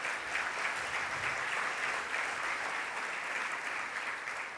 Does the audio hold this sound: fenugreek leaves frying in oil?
no